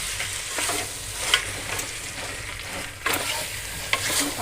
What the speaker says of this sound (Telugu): టమాటా వేసుకొని మంచిగా కలిపి